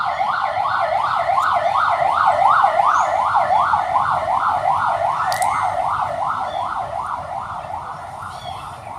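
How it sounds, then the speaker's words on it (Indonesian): A wailing siren sweeps up and down in a fast, steady, repeating cycle, loud and continuous from start to finish, with a faint click or knock partway through. "Suara sirine ya."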